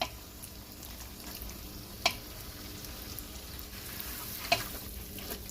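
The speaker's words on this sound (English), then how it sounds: "I like to fry my tomato paste so I can get rid of that bitter taste in my tomato paste" Tomato paste frying in a pan, a steady broadband sizzle running throughout with two brief sharp clinks or stirring knocks, close and moderately loud, no talking.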